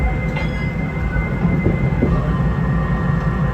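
A passenger train pulls away from a station, a steady loud rumble of rolling wagons with faint wheel squeal and rail noise throughout, no voices.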